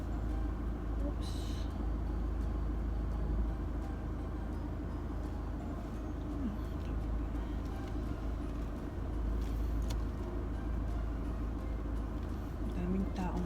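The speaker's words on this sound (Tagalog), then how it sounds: "Daming sasakyan." Busy road traffic near a shopping area hums as a steady low rumble of passing cars, continuous and moderately close, with faint voices mixed in.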